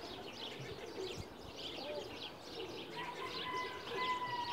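Pigeons cooing softly in a loft, low repeated coos and faint chirps at a distance, quiet against a background hiss with occasional soft movement.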